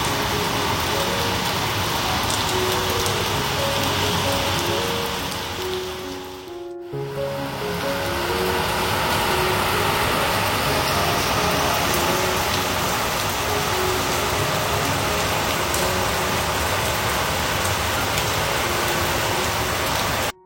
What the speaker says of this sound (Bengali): বাইরে তখন মুষলধারে বৃষ্টি আরম্ভ হয়েছিল